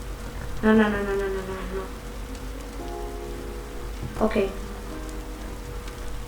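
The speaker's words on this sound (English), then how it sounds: "because it's raining" Rain falls at a campsite as a steady, soft hiss of patter throughout, with brief spoken words and a couple of voiced exclamations over it.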